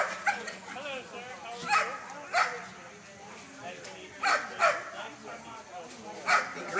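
A dog in a protection sport guarding exercise barks and whines in short repeated bursts, mixing sharp yips with whimpering, close and fairly loud over a low background.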